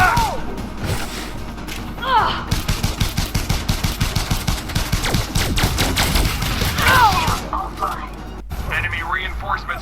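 Pistol fire from the video game Elite Dangerous: Odyssey rings out as a long, rapid, evenly spaced string of loud sharp shots, with someone talking over it.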